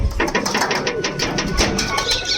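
Pigeons in a home loft, with soft repeated cooing and fluttery bird calls close by, blending into a steady busy background with no one talking.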